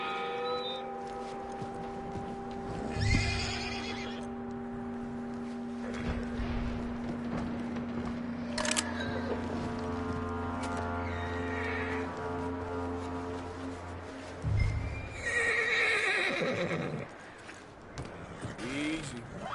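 A horse whinnies and snorts with hoof clatter and creaking tack in Red Dead Redemption 2 story mode, intermittent calls over a low hum and scattered game sounds, with a voice speaking at times.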